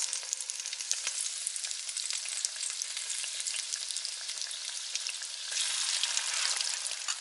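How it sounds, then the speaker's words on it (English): Steady crackling sizzle of halloumi fries frying in hot oil, close and continuous, growing a little louder toward the end. "I'll just finish frying the rest"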